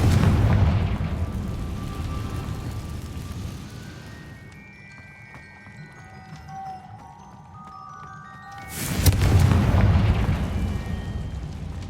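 A Confringo spell explodes in the Hogwarts Legacy video game, with a loud, rumbling blast at the start and another heavy burst near the end, separated by a softer shimmering musical passage.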